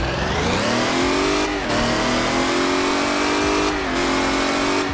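A car in the mobile game Car Parking Multiplayer revs hard, its loud synthetic engine note climbing in pitch twice, each time dropping back with a quick shift and a popping exhaust burble.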